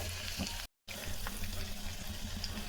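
Curry leaves crackling and sizzling in hot oil with browned onions and dried red chillies, a steady close frying hiss with a brief gap of silence, for a pumpkin sambar.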